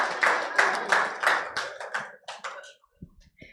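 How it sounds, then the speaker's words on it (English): An audience at a healthcare report launch in Nigeria gives a short round of applause: a few distinct bursts of clapping that quickly thin out to scattered claps and fade. "Please, a round of applause for yourselves."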